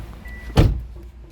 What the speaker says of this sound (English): I'll shut the door so we can see.